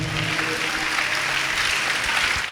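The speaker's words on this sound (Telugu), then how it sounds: "అందరూ సంతోషంగా చప్పట్లు కొట్టి దేవుని మహిమపరుద్దాం." Church congregation clapping together during a Telugu worship service, a steady dense wash of applause filling the whole moment without pause, fairly loud and close.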